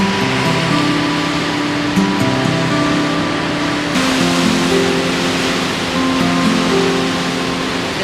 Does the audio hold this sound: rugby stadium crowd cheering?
no